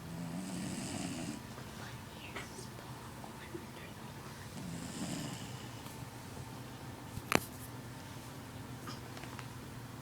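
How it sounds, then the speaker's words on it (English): A Jack Russell terrier snores loudly, with repeated rhythmic breathy snores a few seconds apart over a quiet room background and a brief sharp knock near the end. "just trying to get the loud snores."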